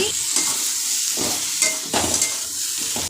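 A potato and papaya curry with turmeric cooks in a pan, sizzling steadily and loudly up close, with recurring scrapes and stirring knocks of a utensil against the pan.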